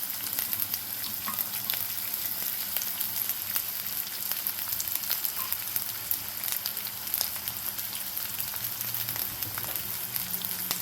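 Chopped onion and green chillies frying in a pan for cabbage palya, a steady soft crackling sizzle with scattered small pops, fairly quiet and even throughout, no voices.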